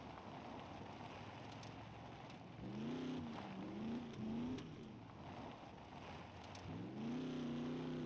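A vehicle engine idles and revs in the SCUM survival game, a quiet low hum whose pitch rises and falls in a few swells over a soft rumble of wind.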